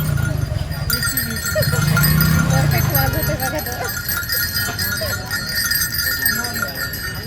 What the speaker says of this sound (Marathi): ही घुंगरांच्या माळा आहे गळ्यात घालायच्या